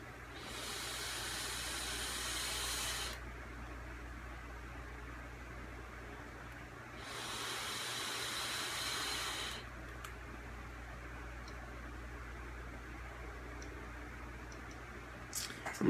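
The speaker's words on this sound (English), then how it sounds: "So let's have ourselves a vape" An e-cigarette fired at 60 watts on 0.62-ohm dual spaced Clapton coils gives two soft hissing draws of about three seconds each, separated by a quiet pause.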